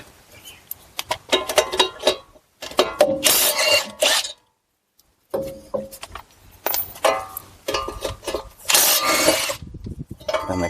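Ratcheting and metallic clicking from a wrench working the 21 mm caliper bracket bolts on the front brakes of a 2014-2020 Dodge Durango RT, in bursts of close, busy tool noise separated by a short pause.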